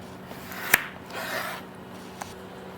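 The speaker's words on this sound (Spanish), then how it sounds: "yo la papa la voy a cortar un poquito así como diagonal, para que no quede recto así el corte" A knife cuts potatoes diagonally into wedges, making one sharp, close cutting click followed by a soft scraping rub and a faint later tap in an otherwise quiet kitchen.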